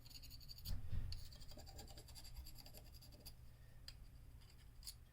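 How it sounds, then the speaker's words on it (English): A knife blade is worked on a sharpening stone with steady scraping and rasping strokes, a louder burst near the start and then continuous close abrasive rubbing, with no voices. "Put it on a stone and check the edge."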